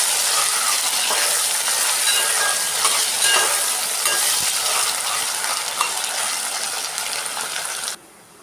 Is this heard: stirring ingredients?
yes